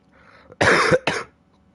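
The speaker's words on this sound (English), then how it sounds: "that was a phlegm cough" A close, wet cough in two harsh bursts, the first longer and the second shorter, phlegmy and rattling, in an otherwise quiet room.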